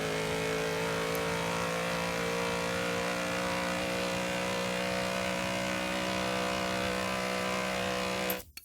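Porsche 906 race car engine in a racing game, a loud sustained high-revving whine holding steady, then cutting off abruptly at the end.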